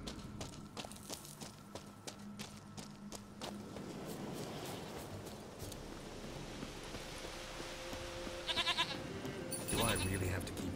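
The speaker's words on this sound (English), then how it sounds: "Goat of mine, dearest, sweetest goat." Near the end, a goat in The Witcher 3 gives a short, wavering bleat over a steady game ambience of rustling and low rumble, following distant in-game sounds earlier on.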